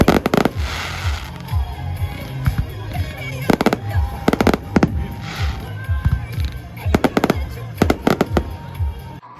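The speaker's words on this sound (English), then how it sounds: "Here's fireworks in Coney Island." Fireworks at Coney Island pop and bang in loud irregular bursts, some crackling clusters in quick succession, with crowd murmur and voices underneath between the blasts.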